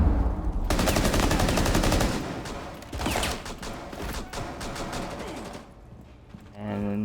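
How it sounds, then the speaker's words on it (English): Rapid, loud shotgun and gunfire blasts from the video game Rainbow Six Siege, dense repeated shots ringing with mechanical clatter, easing briefly before another burst. "Well, that's a shotgun."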